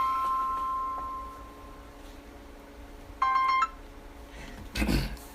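A telephone gives off a short burst of electronic dialing tones partway through, fairly close and clear against a quiet room, followed a second later by a dull knock.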